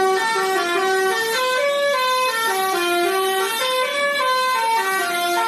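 A loud, melodic horn honks continuously in a rising and falling tune, like a musical truck horn playing a jingle, close and unbroken.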